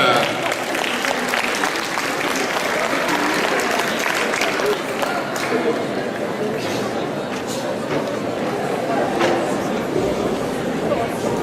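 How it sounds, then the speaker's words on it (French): A crowd applauds the second Vocaloid cosplay group at a Japanantes 2012 cosplay parade: dense, sustained clapping with cheering and crowd chatter mixed in, loud and even throughout. "Donc je vous demande d'applaudir le deuxième groupe Vocaloid."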